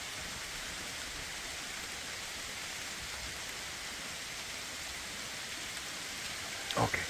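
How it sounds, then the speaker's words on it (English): Heavy rain pours down steadily on a farm as a dense, even hiss, loud and close throughout, with a short louder patter near the end. "I had to show this outburst of the rain"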